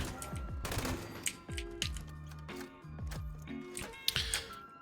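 An MG42 machine gun fires in Fallout 76 with an anti-armor build, sharp rapid bursts of gunfire separated by short pauses, each burst trailing off with falling mechanical tones, fairly close and alone with no talk.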